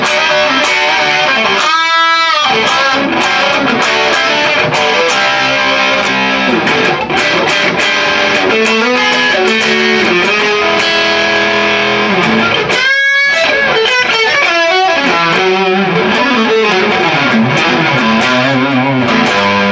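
An electric guitar with single-coil pickups is played through a Joyo JF-303 Little Blaster crunch distortion pedal, giving gritty, saturated chords and single-note riffs with brief pauses between phrases, loud and close with no talking.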